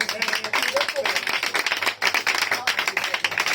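A church congregation claps and cheers hard, loud and continuous throughout, with voices rising in the crowd noise.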